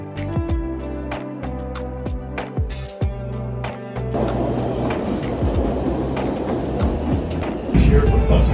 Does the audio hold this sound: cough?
no